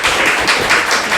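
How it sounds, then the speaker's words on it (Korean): Children's congregation at a Sunday school service clapping together, a brief, close, dense burst of applause with no talking. "박수 한번 쳐주세요"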